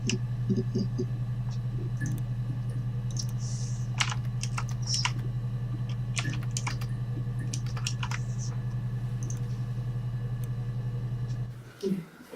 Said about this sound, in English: What if we type in love?